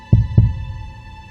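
An old man's beating heart rendered as a sound effect: two deep, close thumps in quick succession, lub-dub, over a low steady hum, alone with no voices.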